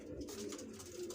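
Pigeons with stamped markings, kept as a pair of birds in a loft, cooing continuously in a soft, low, throaty rolling rhythm, close and steady with no talk over it.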